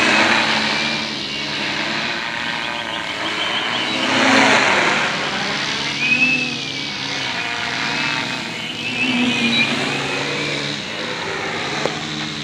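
A Tarot 650 Sport drone with 17-inch propellers flies at part throttle, a buzzing propeller drone that rises and falls in pitch and loudness as it manoeuvres overhead, continuous and fairly near.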